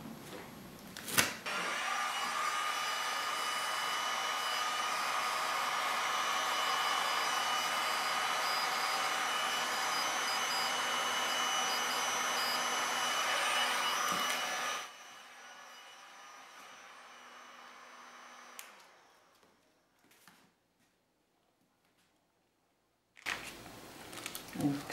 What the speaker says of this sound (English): See if my heat gun can finish that without hurting it